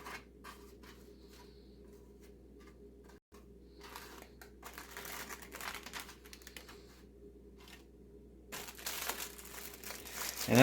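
Aluminum foil crinkles and rustles in soft bursts while being filled with almond bar mixture, quiet and close, with louder crumpling toward the end.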